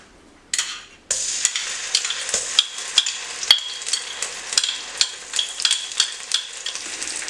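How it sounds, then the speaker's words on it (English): Curry paste frying in hot oil in a pan on a stove for khao soi, starting with a loud burst of sizzling that settles into a steady crackle with repeated sharp stirring scrapes and clinks, close and alone. "heat some oil in a pan, and then add all the curry paste"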